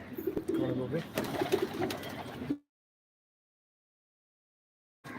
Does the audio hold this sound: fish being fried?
no